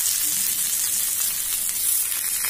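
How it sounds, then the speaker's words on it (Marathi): Stuffed bitter gourds shallow-fry in hot oil over a low flame, sending up a steady, close, bright sizzle that holds evenly without talk. "मी गॅसची फ्लेम लो करून त्याच्यामध्ये कारली सोडते."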